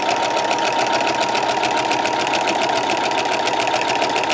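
A sewing machine fitted with a walking foot runs a straight stitch at medium speed, giving a loud, close, steady rapid mechanical chatter that continues unbroken, with no talking.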